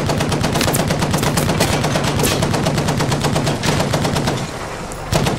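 Rapid machine gun bursts fire in Battlefield V, loud and close, rattling almost without pause for about four seconds. After a short lull, a single shot sounds near the end.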